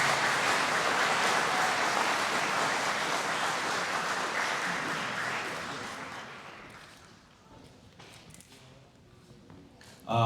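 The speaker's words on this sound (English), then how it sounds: "how about another round of applause for this group of candidates here?" A room full of people at a county Republican meet-the-candidates event gives a sustained round of applause that gradually fades out after several seconds, followed by quieter room noise and a brief voice at the end.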